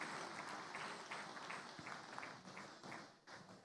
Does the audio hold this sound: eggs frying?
no